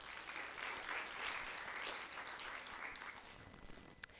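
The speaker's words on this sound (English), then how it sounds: "A round of applause, please." Applause rises from the audience at a regional school debate knockout between Mang'u High School Junior and Corner Brook, a soft, distant wash of continuous clapping that thins out toward the end with a few isolated claps.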